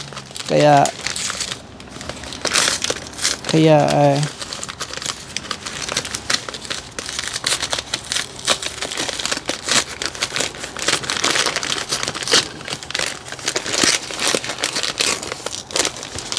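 An Amazon order package being opened and unwrapped, with close crinkling and rustling of packaging that comes in bursts, alongside a person talking.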